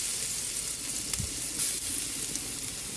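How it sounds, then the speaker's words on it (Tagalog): Garlic sautés in a pan for ginisang munggo, a continuous bright sizzle close by with a brief low clunk of stirring or a utensil partway through. "Gisa na po natin yung ating bawang"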